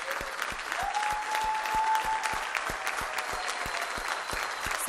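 An audience in a Turkish daytime television studio claps steadily and loudly, individual sharp hand claps standing out over the dense applause, with no talk over it.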